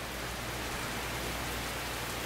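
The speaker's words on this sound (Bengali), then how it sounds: "পানি পড়তেছে, বৃষ্টির সব অপরূপ সৌন্দর্য" Steady rain pours down at a resort, a dense, even hiss of drops on surfaces that continues without a break from start to finish, with no voices.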